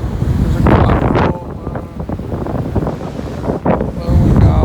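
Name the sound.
strong wind on a beach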